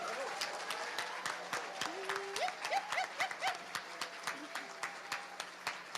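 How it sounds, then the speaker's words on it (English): Audience clapping at a national culture summit in Ottawa, steady moderate applause from a seated crowd with a distinct tonal sound and faint voices underneath. "can we all please give a warm round of applause for our opening drummers"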